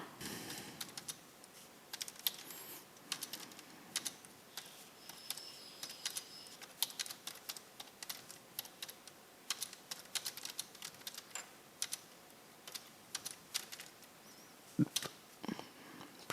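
Rapid computer-keyboard typing while entering text into spreadsheet cells, a steady run of light clicks and keystrokes across the whole stretch, close and fairly quiet, with one sharper key press near the end.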